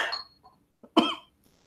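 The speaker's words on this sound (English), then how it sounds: "Starting to cough." A couple of short, sharp coughs close by, separated by brief pauses, with a softer throat sound in between.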